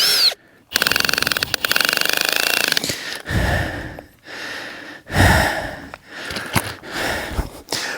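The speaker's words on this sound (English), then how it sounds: "So this drill may not be the best drill for putting the screws in the ground" A power drill drives a screw tent stake into rocky Rocky Mountains ground, whirring and grinding in repeated loud bursts with juddering stalls and pauses in between.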